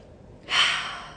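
One deep breath drawn in through the nose and mouth, a close, airy inhale that swells and then trails off over about a second, heard alone.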